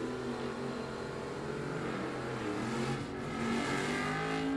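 Two drag-racing cars, a 1967 Chevrolet Camaro and a 1957 Chevy, roar down the strip at a bracket nationals meet, a continuous heard-from-afar engine drone that swells slightly toward the end, with no talk.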